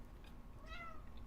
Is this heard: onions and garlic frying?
no